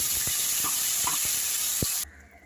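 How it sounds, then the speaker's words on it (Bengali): Potatoes with salt and turmeric frying in hot oil, a steady broadband sizzle with a few soft stirring knocks, close and loud, cutting off abruptly near the end. "আলুর ভেতরে নুন হলুদ দিয়ে আলুটা আমি ভাজা করছি"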